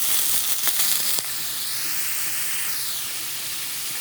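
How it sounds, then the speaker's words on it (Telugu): Pieces of paneer fry in a pan with a loud, steady sizzle and hiss. A few sharp crackles come near the start before the sound settles into an even, close frying noise. "ఇలాగ దాన్ని ఫ్రై చేసుకోవాలి"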